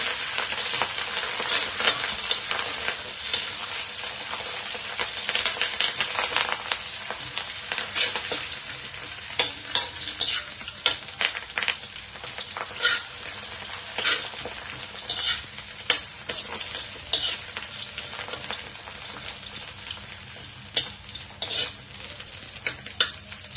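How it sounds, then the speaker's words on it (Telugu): Dal sizzles and crackles steadily in a hot pan while a spatula stirs it with repeated scraping strokes that come close and clear. No one speaks. "తమ్ముడు పప్పు వేగాలండి."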